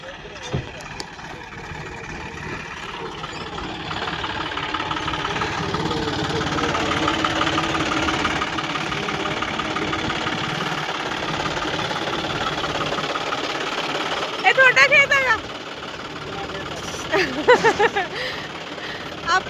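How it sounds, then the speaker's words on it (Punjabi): A tractor engine runs steadily near a paddy field, a continuous chugging drone that swells slightly midway, with a few louder bursts toward the end. "ਆਹ ਹੁੰਦਾ ਜੀ ਆਪਣਾ ਟਰੈਕਟਰ"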